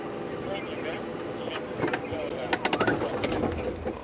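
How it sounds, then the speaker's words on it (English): Levaillant's cuckoo calling during an early-morning safari drive, a series of repeated, evenly spaced whistled notes over steady vehicle rumble and other birdsong. "Sounds like a Levaillant cuckoo."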